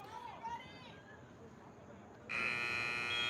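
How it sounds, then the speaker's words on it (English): A loud, sustained electronic buzzer ending the first half of a girls' high school soccer game sounds abruptly partway through, cutting in over faint crowd murmur and continuing to the end. "there's a buzzer, and that is the end of the first half"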